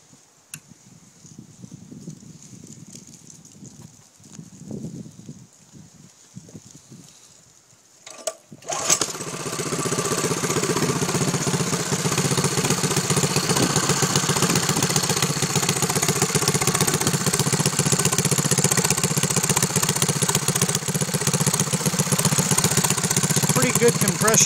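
A Baja Doodlebug Dirtbug mini bike's small engine is pulled over, catches, and settles into a loud, steady idle close by, with some quiet handling noise and voices before it starts.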